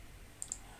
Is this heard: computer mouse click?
yes